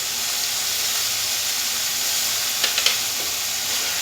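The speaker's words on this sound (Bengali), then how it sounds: "ধনে বাটাটা, ওটাও দিয়ে কিছুক্ষণ নাড়তে থাকবো" Ground coriander paste frying in hot oil makes a loud, continuous hissing sizzle, with a couple of brief clinks as it is stirred in the pan.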